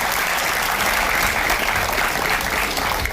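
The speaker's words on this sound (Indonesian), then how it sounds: "kita beri tepuk tangan untuk Devano" Audience at a national flag-raising troop event applauding, dense continuous clapping that stays loud and even throughout.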